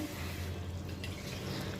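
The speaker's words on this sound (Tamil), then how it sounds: "நம்ம தண்ணி சேர்த்துக்கிறோம்" Water poured into a pan of sautéed mushroom and spinach (arai keerai) biryani masala, giving a steady, close liquid splash and trickle that runs without a break from start to finish.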